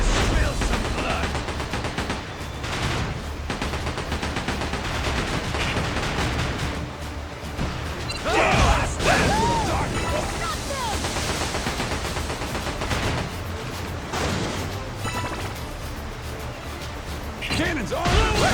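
Ship cannons fire in a naval battle in Like A Dragon: Pirate Yakuza, heavy booming blasts and crashes repeating in rapid volleys over constant sea and game noise, with voices calling out between shots.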